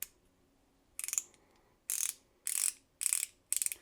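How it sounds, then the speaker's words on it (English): A STREBITO mini ratchet clicks in five short bursts of rapid pawl ticks, crisp and close, with brief quiet pauses between them. "There's a fairly nice ratcheting mechanism."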